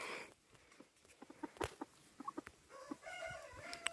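Yellow-legged hatch gamefowl chicks and chickens make quiet, scattered peeps and clucks nearby, with a few brief sharper calls and a thin chirping line near the end.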